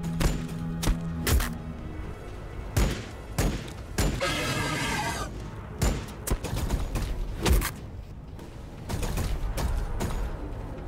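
Rapid bursts of gunfire and sharp mechanical clanks from the turn-based strategy game Warhammer 40k Battlesector, scattered across the clip at close range with no talking.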